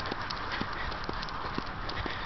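Soft, regular hoof clops of a horse walking on a hard surface at Rocky Ridge Park, a few steady beats a bit distant over a faint background hiss.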